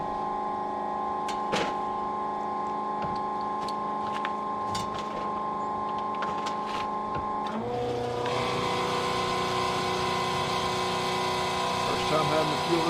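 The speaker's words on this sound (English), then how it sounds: "Used to having a diesel side by side." Diesel side-by-side utility vehicle engine idling with a steady tonal hum, then revving up louder and rougher partway through, close by.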